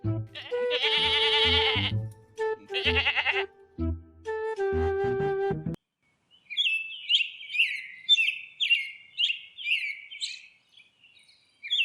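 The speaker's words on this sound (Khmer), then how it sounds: "ដូចជាមានសម្លេងពពែយើងនៅឯណា ប្រហែលជានៅជិតនេះហើយមើលទៅ" A goat bleats loudly several times in drawn-out cries, followed by a run of bright bird chirps and tweets nearby.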